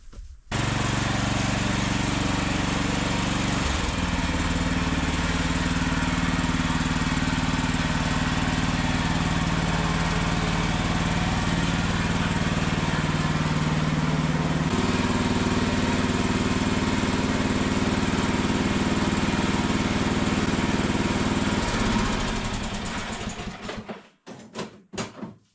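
A new lawn tractor with hydrostatic drive runs continuously nearby, a loud steady engine drone that shifts slightly in pitch partway through, then cuts off near the end.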